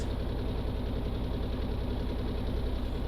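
Four boat engines run at full speed in Stormworks, a loud, steady mechanical drone with a fast knocking pulse that holds unchanged throughout.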